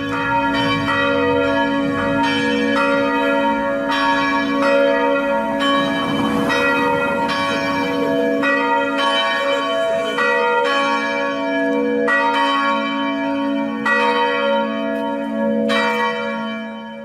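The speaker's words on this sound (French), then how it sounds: "toutes les cloches firent entendre un sinistre tocsin." Church bells ring a tocsin alarm, repeated loud, resonant strikes at a steady rhythm with long ringing overtones layering into a continuous metallic hum.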